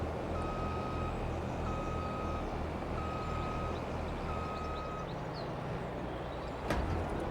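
Truck reversing alarm in the Farming Simulator 22 game, four evenly spaced loud beeps over a steady engine drone, with a brief hiss near the end.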